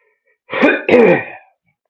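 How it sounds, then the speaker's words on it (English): Two quick, harsh throat-clearing coughs bringing up mucus, close and loud, back to back and then silence. "Ooh, coughing up mucus and it's wanting to come back up."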